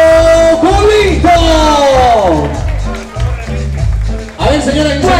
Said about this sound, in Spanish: fuerte, pero fuerte el aplauso para